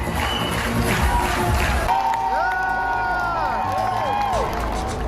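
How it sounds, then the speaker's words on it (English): Fans cheer at a screening of the film RRR in Los Angeles, a steady wash of crowd noise with shouting voices that grows fuller and more excited partway through. "Fans were seen cheering and dancing to the songs of the movie."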